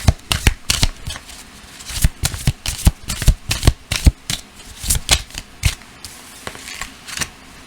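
Oracle cards, a Romance Angels deck, are shuffled by hand in a steady run of crisp riffling snaps and soft slides, close and fairly loud, with no voice during the shuffle.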